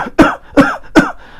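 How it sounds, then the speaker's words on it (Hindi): Three loud, close coughs in quick succession, each a sharp burst about every 0.4 seconds, produced deliberately as a breathing exercise in the prone position to clear sticky phlegm. "ये आपको खांसना है,"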